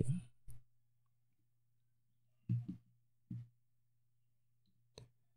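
A few sharp, close mouse clicks spaced irregularly while someone works in Camtasia, each one brief and isolated against a quiet background with a steady low hum.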